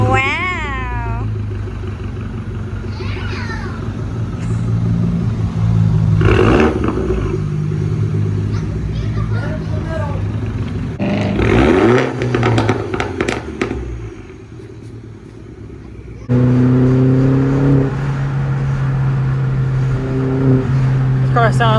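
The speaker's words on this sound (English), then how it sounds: "This car sounds so much nicer than my last setup." An R56 Mini Cooper with the secondary cat, resonator and muffler deleted and a 2.5 inch exhaust pipe revs loudly and up close. Several rising and falling engine swells are followed by a steadier, raspy drone near the end.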